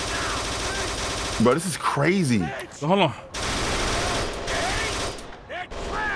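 Rapid bursts of gunfire in the video game Kane and Lynch 2 crackle under and between excited talking, with a few louder volleys standing out.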